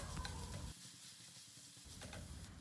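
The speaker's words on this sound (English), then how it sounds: "On medium flame we will saute them well until the raw taste of onion, ginger, garlic goes away" Onion, ginger and garlic sautéing in a pan over medium flame, a soft steady sizzle with light stirring scrapes, faint and close, dipping briefly in the middle before picking up again.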